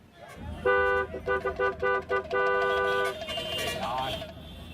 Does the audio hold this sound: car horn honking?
yes